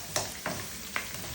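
Onion and garlic sauté in a pan with browned bone-in pork belly, a steady sizzle broken by a few sharp stirring scrapes, close and moderately quiet.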